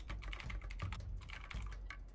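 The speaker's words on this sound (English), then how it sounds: "I hear Furious typing." Fast, continuous typing on a computer keyboard, a dense rapid patter of close key clicks with no talking, faint and steady.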